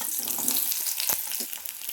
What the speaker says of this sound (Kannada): ಆ ಎಣ್ಣೆ ಬಿಸಿ ಆದಮೇಲೆ ಈರುಳ್ಳಿ, ಶುಂಠಿ, ಬೆಳ್ಳುಳ್ಳಿ ಹಾಕ್ಕೊತಾ ಇದ್ದೀನಿ.